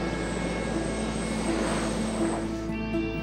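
A propeller airplane drones steadily overhead in the outback around Alice Springs, a continuous engine hum with a faint high whine that holds level for a few seconds before thinning slightly at the end.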